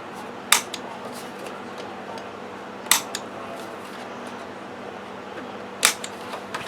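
A sheet of paper is cut in three sharp, separate snips a few seconds apart, close and crisp over a quiet room.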